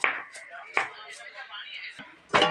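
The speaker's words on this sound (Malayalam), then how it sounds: "പടവളങ്ങ രണ്ടിങ്ങനെ കോരി അരിയണം" A knife chops snake gourd lengthwise on a board in three or four separate sharp cuts, close and fairly loud, with a voice talking between them.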